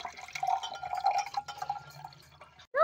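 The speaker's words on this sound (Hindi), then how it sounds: "अब हम कांच के गिलास में डाल देंगे पानी।" Water is poured into a glass for a simple home science experiment, a continuous bubbling, trickling pour that ends with a brief splashy sound.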